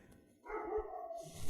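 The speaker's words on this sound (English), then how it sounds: "my dog's going nuts" A dog barks in a short excited burst, moderately close, with no talking over it.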